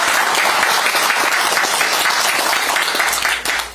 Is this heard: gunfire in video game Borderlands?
no